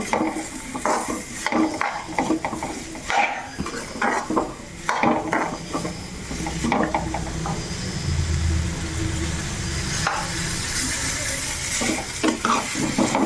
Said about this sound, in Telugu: బీట్రూట్ కూడా కొంచెం త్వరగా ఫ్రై అవుతుంది సో ఇప్పుడు ఈ పసుపు సాల్ట్ వేసాం కదా కొంచెం బాగా మిక్స్ చేసుకోండి